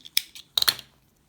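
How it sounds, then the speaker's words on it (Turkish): Scissors snip crochet thread for needle lace edging, a few quick, crisp close snips in a short burst, then quiet. "hemen ipimi kesiyorum"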